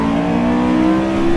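A Honda S2000 engine in the game Assetto Corsa EVO roars at high revs past 6,000 into VTEC, a steady loud mechanical drone with a strong harmonic whine, close up.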